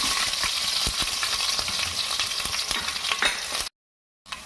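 Crushed garlic sizzles and crackles steadily in hot oil during a village-style tempering with mustard seeds and curry leaves, loud and close with a few stirring clicks, then cutting to silence near the end.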